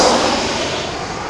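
An EasyJet Airbus A320-200 passes on its night landing at Manchester Airport, a loud steady broadband jet roar heard briefly and close, fading only slightly.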